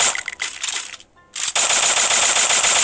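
Automatic gunfire in a shooter video game: loud, rapid machine-gun bursts, a short gap, then a sustained unbroken stream of shots, close and dominant without speech.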